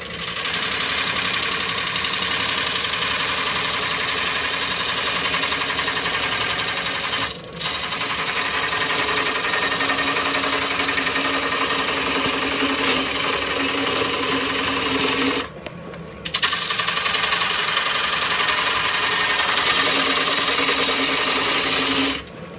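A wood lathe spins a large green wood bowl blank, giving a steady, loud rough whir and scraping hum up close, broken by two short pauses where the sound cuts out before resuming. No one speaks.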